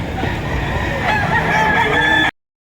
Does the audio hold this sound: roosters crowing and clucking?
yes